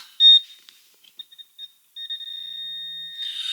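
Metal detecting pinpointer in a forest giving a few short high beeps, then a steady continuous tone as it locks onto a signal, loud and close.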